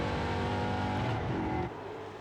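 NASCAR stock cars race into the final chicane at Zolder, Belgium, engines roaring at high revs with a harmonic whine that drops sharply near the end as the cars pass and brake.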